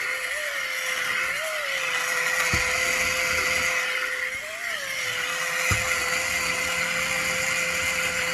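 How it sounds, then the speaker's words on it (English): A Teami Mixit blender chops apricot with a loud, continuous whirring motor, its pitch dipping and rising briefly as the load shifts, with two sharp clicks along the way. "Most of the apricot was really chopped up, really small by the blender"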